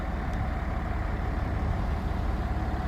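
Fuel tanker truck's heavy diesel engine idling at a work site, a steady low rumble throughout, close and continuous with no talk.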